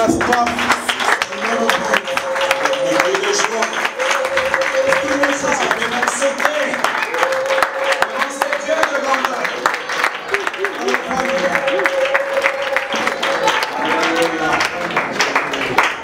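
A church congregation claps and cheers continuously, a dense steady wash of applause throughout, with a preacher's voice and a sustained musical tone running underneath.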